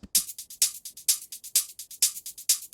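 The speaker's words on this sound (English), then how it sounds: "And then I have my hats," A crisp electronic hi-hat loop ticks in a steady, quick pattern of bright, short hits, with a faint low kick underneath at the start.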